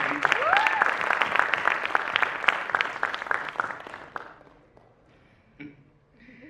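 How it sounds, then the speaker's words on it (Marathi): A studio audience at a Marathi talk show breaks into dense, lively clapping for about four seconds, with a brief vocal whoop near the start. The applause then fades into near silence, followed by a couple of faint stray sounds. "एकदा जोरदार टाळ्या"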